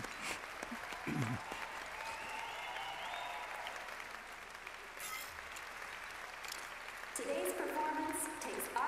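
Applause and crowd cheering from a Final Fantasy 7 Rebirth cutscene play under a woman's reactions, with a steady wash of clapping that swells again toward the end.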